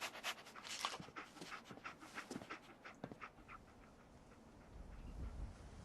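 Dogmeat, the dog in Fallout 4, panting in quick rhythmic breaths that fade toward the end, fairly quiet with a low rumble of game ambience underneath.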